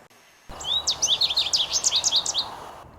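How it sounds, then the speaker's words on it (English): An American goldfinch sings a rapid run of high, bright, twittering notes for about two seconds, clear and fairly close over faint background noise. "American goldfinch."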